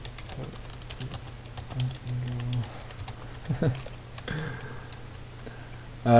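Computer keyboard typing runs in quick, uneven bursts of clicks over a low steady hum, fairly quiet and close, with a louder thump near the end and no clear speech.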